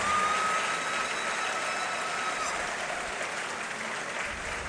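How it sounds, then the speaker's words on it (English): Audience at a professorial inaugural lecture gives a loud, steady round of applause, an even wash of clapping that holds for the whole stretch with little variation. "Ladies and gentlemen, a loud round of applause."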